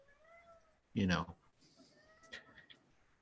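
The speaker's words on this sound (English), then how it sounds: "This cat comes, sits, looks at you, Melio." A cat gives a single loud, close meow that rises and falls, with softer voices murmuring before and after it.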